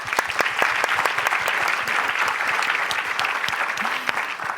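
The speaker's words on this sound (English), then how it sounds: "And please, a round of applause." A conference audience gives a sustained round of applause, many hands clapping in a dense, even wash at moderate distance with no pauses.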